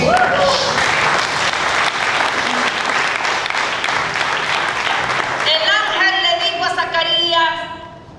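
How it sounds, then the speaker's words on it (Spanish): A church congregation claps loudly and continuously through a Spanish-language sermon, then the applause thins out as voices and tuneful sounds take over before fading at the end. "Denle un aplauso al Señor."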